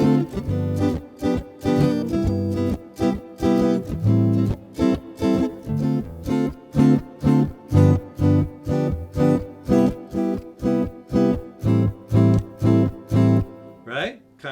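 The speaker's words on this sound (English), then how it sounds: "we put those 4 chords together in this 2-5-1-6 progression. Will sound like this." A guitar strums a jazzy 2-5-1-6 chord progression of minor and dominant seventh chords in steady, even strokes, each chord ringing briefly before the next, with a short voice sound right at the end.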